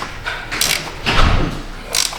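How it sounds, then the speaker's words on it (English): Ratchet snugging a transmission drain plug back up on a Chevy/GMC 4L60E, a few short close clicking and creaking strokes in quick succession. "We'll snug our drain back up here."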